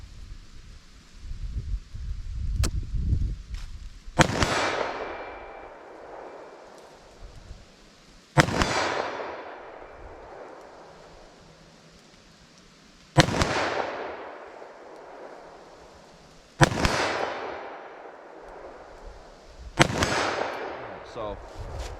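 Five sharp gunshots from a short-barrel .327 Federal Magnum revolver fired at an outdoor range, spaced several seconds apart, each a loud crack with a ringing decay, amid low background rustle and occasional soft speech.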